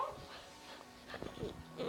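A dog in Last Day on Earth: Survival whimpers and yips faintly a few times, soft high whines over quiet background noise.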